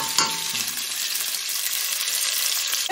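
Nigerian efo riro vegetable soup cooking on medium heat in a pot, a steady hissing sizzle with a brief stirring scrape near the start, close and even in level.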